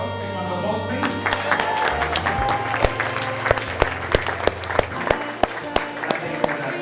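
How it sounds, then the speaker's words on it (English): Wedding guests at Ben and Rachael's reception break into loud applause over fading background music. The clapping is dense at first, then thins into sharper, scattered claps. "Big round of applause, please."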